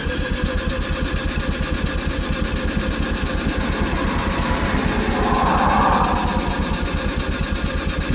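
A Mazda RX7 FC3S Turbo II rotary engine cranks on the starter with the fuel injection fuses pulled, so it does not fire, making a rapid, even, pulsing whir that runs unbroken and loud, close up with no talking.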